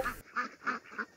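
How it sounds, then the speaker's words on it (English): Ducks quack nearby, four soft, evenly spaced calls in quick succession after a brief burst of noise at the start. "I think I like staring at these ducks."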